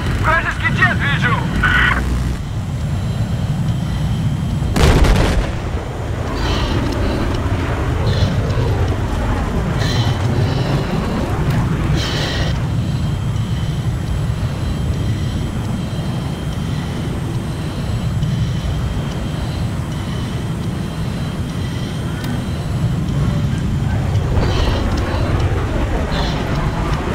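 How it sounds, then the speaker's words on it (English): An enemy jet in a Battlefield 4 Conquest Large match on Lancang Dam roars overhead as a steady, loud engine rumble with battle noise, with players talking over it throughout. "Вражеский jet вижу!"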